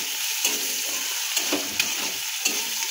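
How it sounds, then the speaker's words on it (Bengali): Onions and green chilies sizzle steadily in a hot pan with faint occasional scrapes of stirring, no voices. "দিয়ে এটাকে ভালো করে ভেজে নেব আমরা।"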